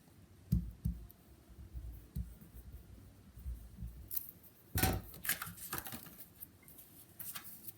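Scissors trim paper for a handmade card, giving a few close, crisp snips spread through the clip with soft paper handling between them and no talking.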